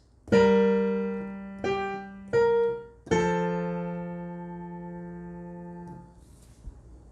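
Piano plays part 3 of the chorus of a song as four struck chords in an uneven rhythm, the last one held and fading out, with no voice.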